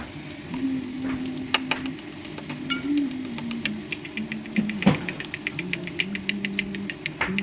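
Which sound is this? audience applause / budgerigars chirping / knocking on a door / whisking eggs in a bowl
whisking eggs in a bowl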